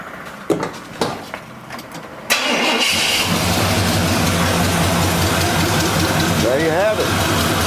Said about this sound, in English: I'm gonna try it at the key first